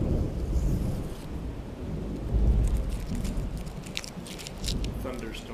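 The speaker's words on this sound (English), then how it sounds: "Thunder interrupted me." Low thunder rumbles and rolls beneath rain in Missouri, with a person talking over the storm.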